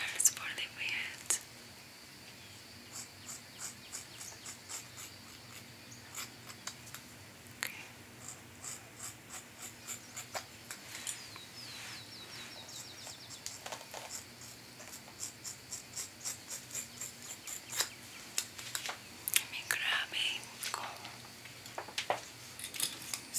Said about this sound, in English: I will use these scissors for the beard.